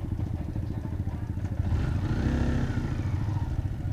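A motor tricycle engine runs close by with a steady low throbbing idle that swells slightly midway, with some rattling clatter on top.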